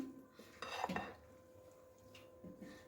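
Fruit chaat being mixed in a bowl with black pepper and lemon juice, heard as a few soft clinks and scrapes of a utensil against the dish, quiet and close, with no voices.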